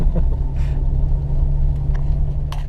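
An off-road vehicle drives over rough ground at a cottage in Paradise, its engine rumbling low and steady from inside the cab, with occasional knocks and rattles from bouncing over uneven terrain.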